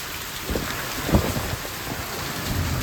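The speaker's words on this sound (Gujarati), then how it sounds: "અને વરસાદ છે ને આજે પણ છે." Heavy rain falls in strong wind near a tin roof, a dense steady wash broken by low gusty rumbles, fairly loud and close, with no voices.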